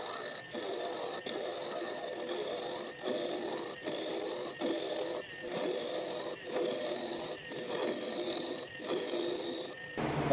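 A chisel hollows an ash bowl on a spinning wood lathe, a close, steady scraping rasp that is broken by brief regular gaps as the tool lifts and returns.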